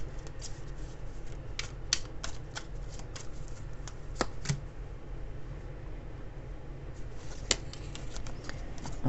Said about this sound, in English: if I can shuffle the cards properly